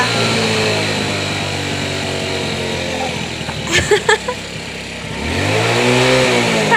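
A motorcycle engine runs close by at a steady idle, with a few sharp clicks midway and a rising rev near the end.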